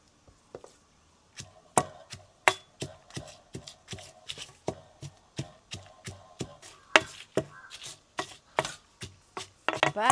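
Chillies and salt pounded in a traditional stone grinder give a steady series of sharp, close thuds, some single and some in quick pairs, with a brief pause near the start.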